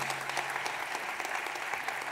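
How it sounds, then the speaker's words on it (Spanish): Steady, dense applause from a live audience at an evening improvised-verse show, clapping filling the room evenly and continuously without breaks or voices standing out. "Para todos ellos pido un fuerte aplauso."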